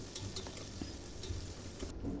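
Onions soften in oil with cardamom and cinnamon, giving a faint, steady sizzle close by, with light ticks and scrapes of stirring and no talk.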